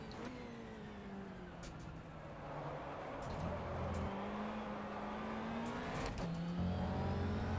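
A Ferrari 360 Modena race car engine revs during a race at Donington Park, its tone climbing and dropping through gear changes with sharp downshift blips. The engine is heard from inside the car and is moderately loud and steady.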